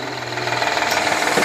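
Honda Elysion with a 3.0 engine idling rough, running unevenly with a misfire and a steady rhythmic knock ticking through a continuous mid-pitched mechanical drone, heard up close with no voices.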